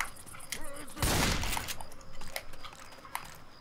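A shotgun blast in the zombie co-op shooter Left 4 Dead 2 lands near the one-second mark as a loud, broad burst. Busy game noise and scattered crackles fill the rest.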